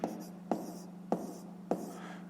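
Pen strokes writing a sum by hand on paper during a fifth-grade maths exercise, four short scratchy bursts in a steady rhythm, close and quiet over a low hum.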